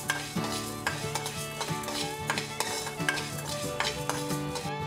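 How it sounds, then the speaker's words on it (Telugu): Coriander seeds frying and being stirred in a pan, a steady sizzle under repeated rhythmic scraping strokes of a spoon against the metal, close and clear with no talking. "అదేవిధంగా ధనియాలు కూడా ఫ్రై చేసుకుందాం."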